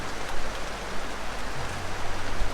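Steady rain falling outdoors at a house construction site in the Philippines, a dense continuous hiss of drops on surfaces with no voices, fairly loud and unbroken throughout.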